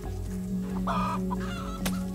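Chicken in the farming video game Garden Paws clucks as it is petted, giving a short run of close, fairly loud clucks over soft background game music.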